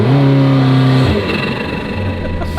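A tuned twin-turbo Lamborghini with an aftermarket exhaust revs hard, a loud rising engine note that drops off after about a second into a rough, throbbing idle before climbing again.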